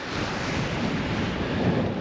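Strong wind gusts roar steadily by the sea on the Irish coast, a continuous broadband rush with surf-like noise buffeting the microphone, no voices.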